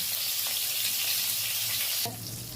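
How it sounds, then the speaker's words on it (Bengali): Spice mix fries lightly in a pan for an egg dish, a loud, steady sizzle that drops abruptly in level near the end. "এগুলো একটুখানি হালকা করে ভেজে নেব"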